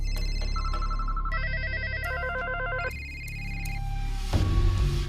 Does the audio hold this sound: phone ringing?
yes